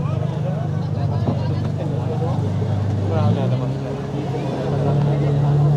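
A full passenger motorboat on the Malvan coast, its engine droning low and steady with a pitch shift midway, plus wind and water rush, while voices talk over it.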